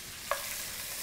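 Shrimp sizzle and fry in a pan, a steady hiss with one quick stirring scrape near the start.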